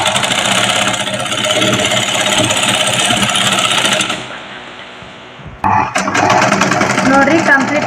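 A sewing machine stitching a plain blouse runs in a fast, steady mechanical whir close by, pauses briefly, then starts again, with someone talking over it.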